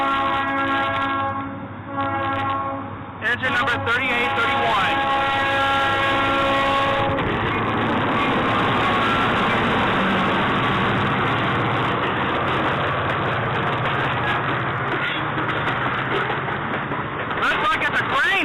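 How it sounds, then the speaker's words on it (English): A westbound Toledo, Peoria and Western grain freight train led by GP38 3830 and GP40 4020 sounds its horn with long sustained blasts, then rumbles loudly past with rattling cars, close by, while someone talks over it. "My first daytime Toledo, Peoria, and Western freight train."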